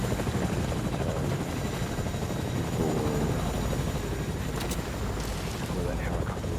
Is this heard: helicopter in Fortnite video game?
yes